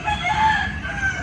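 A chicken calls briefly in a short, wavering cry, heard close and fairly loud over a low background rumble.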